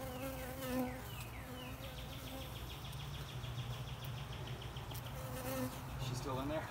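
Bees buzzing around hive boxes in Louisiana: a dense, continuous drone of many insects with individual bees swooping close and away, steady and moderately loud throughout.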